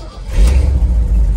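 A Ford F600 truck, a reliable old model with a 360 V8 that is missing slightly, rumbles loudly into running after a start, heavy low-end engine drone steady for about a second and a half with no talk over it.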